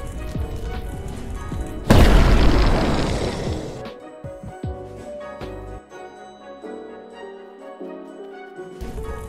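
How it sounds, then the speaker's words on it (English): A fiery Dragon Flames attack in the video game Blox Fruits erupts as a sudden loud roaring burst that fades over a couple of seconds, followed by lighter game effects and background music. "X Dragon Flames."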